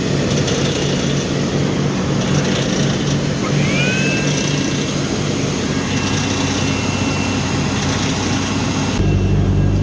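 A 1991 Chevy S10 pickup engine fitted with a homemade supercharger runs loudly up close, a steady droning roar with a rising whine partway through, then a sudden shift to a lower tone near the end.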